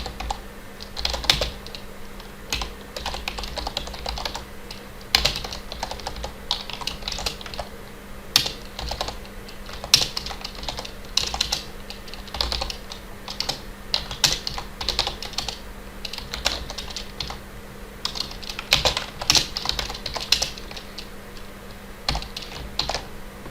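Fingers type on a computer keyboard with a steady run of close, crisp key clicks and occasional louder strokes, alone with no talking.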